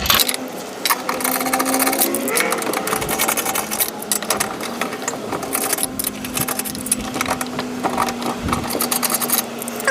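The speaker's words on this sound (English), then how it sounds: "The next thing is to remove the lug nuts." Lug nuts being loosened and taken off a Mazda RX7 wheel: a steady rapid mechanical whirring like an impact tool runs throughout, with small metallic clinks and rattles over it, loud and close, no talking.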